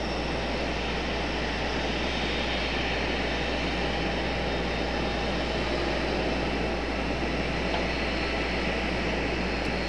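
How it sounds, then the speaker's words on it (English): Apache helicopters fly overhead at night near Raleigh-Durham International Airport, giving a steady, loud, continuous engine roar that fills the whole stretch without easing. "I hear the Apaches again."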